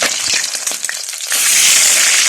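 Steady, crackling sizzle of fish frying in hot oil, close up; the hiss dips briefly with a few stirring scrapes, then swells louder and denser.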